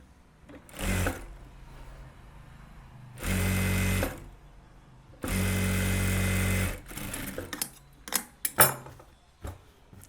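Blouse pieces are joined on a sewing machine, three distinct bursts of rapid stitching, the longer two steady and loud, separated by quiet gaps with small handling clicks and taps near the end.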